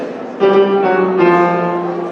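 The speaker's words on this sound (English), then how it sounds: "the first one we're going to hear is what's called the Bohemian life motif" A brief swell of sustained orchestral chords from the Bohemian life motif of Puccini's La Bohème, bright and harmonically rich, rising suddenly and holding steady for under two seconds.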